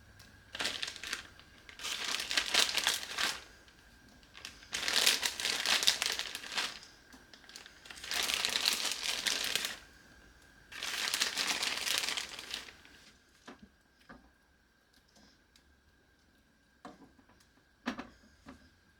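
A plastic freezer bag of frozen meatballs crinkles in several loud, close bursts of a second or two each, with quiet gaps between them and a few soft ticks toward the end.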